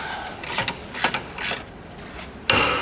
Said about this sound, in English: Now using a 17, a long ratchet, I'm gonna loosen the upper bolt holding the caliper bracket in place.